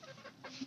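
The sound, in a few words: chickens clucking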